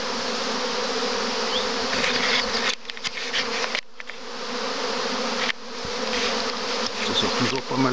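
A dense swarm of honeybees streams out of a hive in April, a loud continuous buzzing drone that fills the whole stretch, briefly dipping in level twice before swelling again, with no voices over it.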